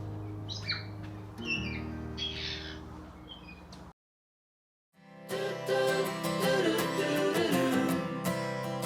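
Birds calling in New Zealand, a few bright chirps and whistled notes over a steady low background, cut off by a brief silence before music takes over.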